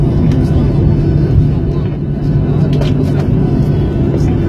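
A steady, loud low rumble fills an airliner cabin just after touchdown in Moscow, droning evenly with no clear breaks.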